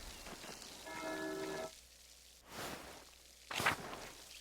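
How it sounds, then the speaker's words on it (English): Rain starting to fall in the video game Pentiment, a soft broadband hiss with scattered droplet-like taps and whooshy bursts, fairly quiet, alongside a faint tonal chime early on. "Oh, and it's starting to rain."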